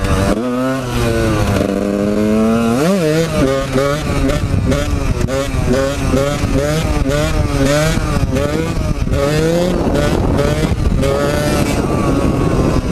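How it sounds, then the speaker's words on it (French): A motorcycle engine revving hard as the throttle is worked during a wheelie, rising and falling pitch in repeated surges, loud and close, with faint voices briefly underneath. "J'essaye de jouer un petit peu avec l'accélérateur"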